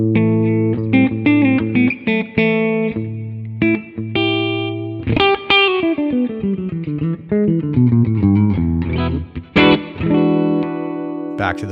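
An electric guitar on the middle pickup position plays through a Tonex amp model, with lightly driven chords and single notes, sustained ringing stabs and quick runs, loud and close throughout.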